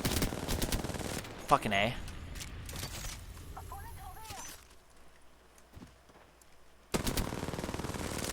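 Rapid bursts of automatic gunfire from enemy soldiers in a shooter video game, loud and dense at the start, thinning midway and returning at the end, with a player's voice cursing over it.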